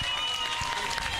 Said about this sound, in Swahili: Makofi kwake.